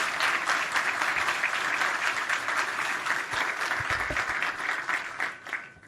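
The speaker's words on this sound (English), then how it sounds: "I think we can have applause now." Audience applause at the close of a Kotlin meetup talk, even dense clapping from a room of attendees holding steady before tapering off at the end.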